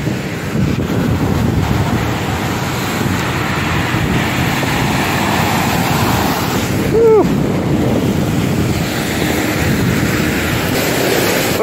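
Waves surge and splash against a shore close by, a loud continuous rushing wash with gusty wind buffeting the microphone and a brief swell near the middle.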